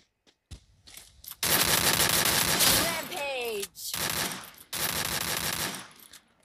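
Rapid bursts of Free Fire video game gunfire in a firefight crackle loudly in several long volleys, with short gaps between them and brief whooshing effects.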